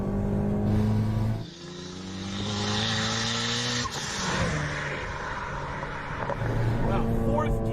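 A modified car engine pulls hard in fourth gear, a loud sustained roar rising steadily in pitch with a brief dip near a shift, heard from inside the car as people talk over it.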